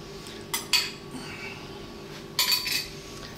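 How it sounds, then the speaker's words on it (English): A metal spoon clinks against a bowl while canned fruit cocktail is mixed into a trifle, two short bursts of scraping and clinking over a quiet background. "And then we've got one can of fruit cocktail. We're going to get that in now. Just sort of mix it about a bit."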